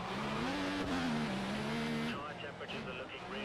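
Formula One car in F1 2014 at Monaco, its engine screaming at the rev limit with a sustained high whine that shifts pitch as it changes gear, under talk.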